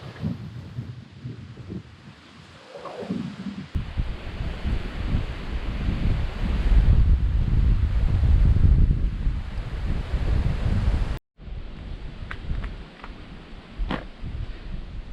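Wind blows outdoors, gusting against the microphone in rough buffeting surges that build toward the middle, cut out briefly, then return more lightly.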